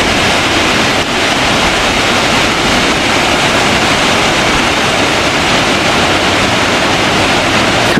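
Water rushes down a hiking trail in the Chaîne des Puys volcanic hills, a loud, steady broadband wash that carries on unbroken with no voices.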